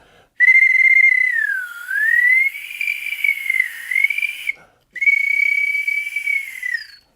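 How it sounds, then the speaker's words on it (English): A loud, close swanee slide whistle with a plastic warbler piece, gliding up and down in pitch with a wavering, warbling tone, in two long blasts separated by a short break. "It's a swanny whistle"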